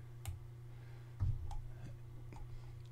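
Clicky keyboard keys tapped a few times, sparse sharp clicks at irregular spacing, close but fairly quiet over a low steady hum, with no voices.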